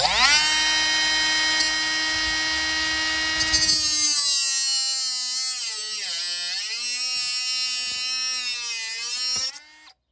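A power tool whines steadily while cutting off the tip of a digging tool used for litter cleanup; the high, harmonic drone shifts pitch midway as it bites into the metal, then cuts out abruptly at the end.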